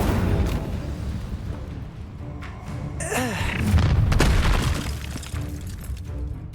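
An Incendio fire spell cast in Hogwarts Legacy during a duel, a deep whooshing boom swelling midway over a rumbling battle bed, with brief voices.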